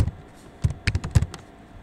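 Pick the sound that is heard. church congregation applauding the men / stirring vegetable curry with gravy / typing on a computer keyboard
typing on a computer keyboard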